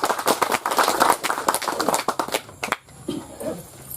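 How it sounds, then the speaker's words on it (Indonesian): An audience at a Keerom regency official's handover event applauds in dense, steady clapping that fills the room for a couple of seconds, then thins into scattered claps and shuffling. "Tepuk tangan."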